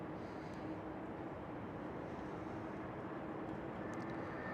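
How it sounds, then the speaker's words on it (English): A KLM Boeing 737 lands at Schiphol Airport, giving a steady broad roar of engine and rushing air, heard from a distance and holding at an even level throughout. "A KLM 737."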